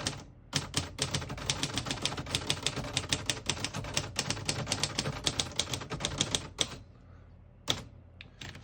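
Rapid mechanical clacking of keys on a 1953 Royal Quiet De Luxe portable manual typewriter in a fast, steady rhythm, close by, ending with a pause and a couple of final strikes.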